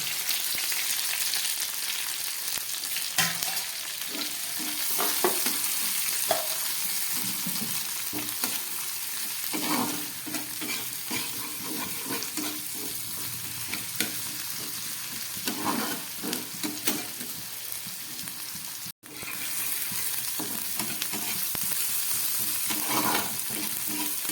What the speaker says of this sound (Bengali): এই ভেজে রাখা কেটে রাখা টমেটো একটু ক্যাপসিকাম আর পেঁয়াজ এটাকে আমি খুব ভালো করে ভেজে নিচ্ছি